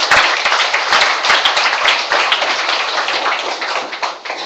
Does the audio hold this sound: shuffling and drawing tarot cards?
no